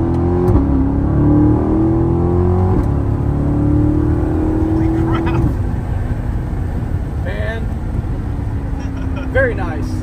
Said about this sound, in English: It is definitely louder, and you can hear it breathing.